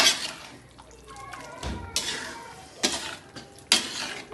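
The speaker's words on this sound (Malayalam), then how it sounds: "നന്നായി നമുക്കിത് ഇളക്കി കൊടുക്കാം." Beef pickle (achaar) being stirred in a pan, with a spoon scraping and clattering against the metal in several close, uneven strokes over a faint sizzle.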